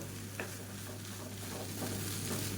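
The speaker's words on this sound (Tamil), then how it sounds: "இதை நல்லா கிளறி விட்டுக்கோங்க" Egg rice stirred in a hot pan over high flame, a soft continuous sizzle with faint scraping stir sounds, quiet and close with no voices.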